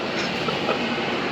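A train at a railway station, a steady close rumble of rolling wagons with faint clicking, continuous and fairly loud.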